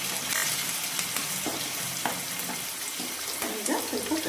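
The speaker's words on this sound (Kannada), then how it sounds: "ಈಗ ಈರುಳ್ಳಿ ಹಾಕ್ತಾ ಇದ್ದೀನಿ." Chopped onion frying in a pan with cumin and chilli while being stirred, a steady close sizzle broken by scraping clicks of the spoon, with no talking.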